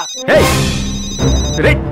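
A telephone rings loudly in bursts during a tense film scene, each ring a bright repeated tone with a strong onset and a short pause between bursts.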